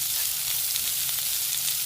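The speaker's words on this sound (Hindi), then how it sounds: "ये डाल के इसको हम फ्राई करते हैं इसी ऑयल में" Sliced vegetables fry in oil on a tawa, a dense, constant close sizzle that stays even and loud throughout, with no talking.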